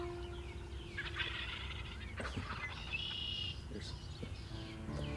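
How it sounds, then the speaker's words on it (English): Wild turkeys gobbling across an Indiana field during a spring hunt, several rattling calls from toms at middle distance, with people talking quietly nearby. "No, the turkeys."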